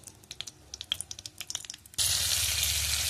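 Whole cumin seeds and green chili go into hot oil for tempering a soybean curry. Scattered light crackles come first, then a sudden loud, steady sizzle that takes over close up.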